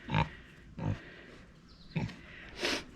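Pigs in a muddy yard grunt and snuffle in a few separate short bursts spaced across the moment, close and fairly soft against quiet outdoor background.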